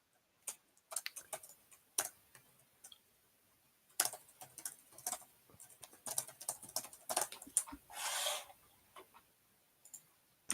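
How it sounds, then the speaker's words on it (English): Quiet clicks from a computer keyboard come in bursts and single taps, with irregular pauses between the keystrokes, and one longer, slightly louder run partway through. "Typing ASMR."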